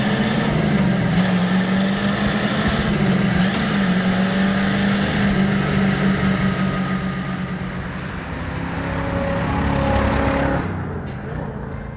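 A 1961 Chevrolet Corvette C1 runs close by, its engine a steady, fairly mellow hum with a low rumble that swells slightly as the car moves, then a brief tonal whine near the end as it fades a little.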